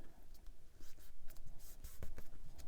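A paper card is folded and creased by hand, giving soft, close rustles and scraping swipes, with a few sharper crinkles toward the end and no speech.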